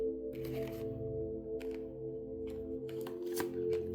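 Tarot cards being shuffled and laid down, with a riffling flutter followed by a few sharp slaps and clicks as cards land, over a steady background hum.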